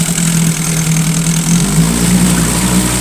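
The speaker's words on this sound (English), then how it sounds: "Idles nice, accelerates nice." A Johnson 2.5 outboard motor idles steadily, a loud, close, continuous low drone with a faint rise in pitch partway through, and no voices over it.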